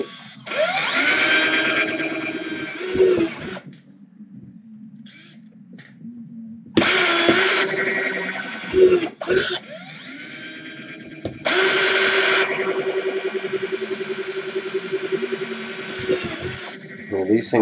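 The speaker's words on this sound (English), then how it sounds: "I'll just whack a hole in it with my screwdrivers. Not screwdriver, a drill." A power drill whirs in several loud, close bursts while boring a hole in thick plastic on a fighting robot, with short pauses and stutters between runs.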